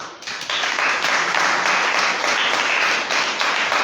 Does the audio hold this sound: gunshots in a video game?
no